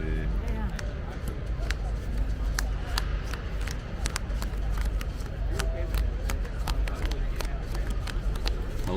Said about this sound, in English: I'm gonna give it a little better shuffle